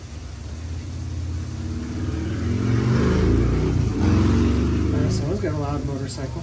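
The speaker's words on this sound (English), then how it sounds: "Someone's got a loud motorcycle." A loud engine rumbles and revs nearby, its roar swelling and holding over several seconds.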